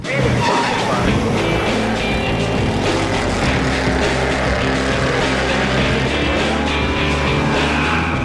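An American muscle car engine, with the outer four barrels of the carburetor slamming open, roars continuously under hard acceleration, a dense loud rumble with no pauses from start to end.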